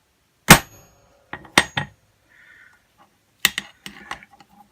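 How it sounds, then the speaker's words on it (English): A hammer strikes a steel ball clamped between two metal pieces for a Brinell hardness test, giving several sharp, isolated metallic impacts with short ringing tails, separated by near-silent gaps, close and loud. "So now the ball between the two pieces here, hit it with a hammer."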